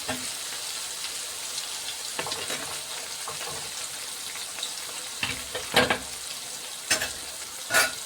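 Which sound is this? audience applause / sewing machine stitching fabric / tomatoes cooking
tomatoes cooking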